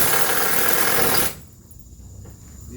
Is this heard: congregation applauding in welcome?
no